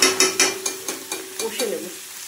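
Taro pieces stir-fried in a pan with a spatula, a series of sharp scraping strokes over a steady frying sizzle, close and fairly loud, fading slightly toward the end.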